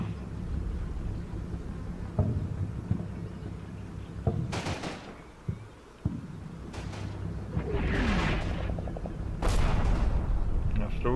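Artillery shelling in the Combat Mission: Rome to Victory wargame, Celleno campaign: spotting rounds land as several heavy, booming blasts, a sharp one near the middle and another toward the end, over a low rumbling battlefield background.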